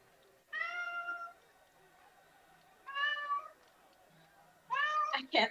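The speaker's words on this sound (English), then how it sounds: "I can't think because of this damn cat." A cat meows three times indoors, each call loud and drawn out with a pause between, the last one rising and ending in a sharper cry.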